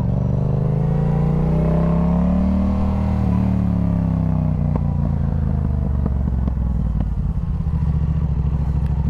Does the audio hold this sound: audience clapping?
no